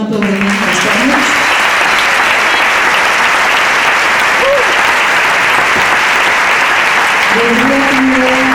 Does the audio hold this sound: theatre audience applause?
yes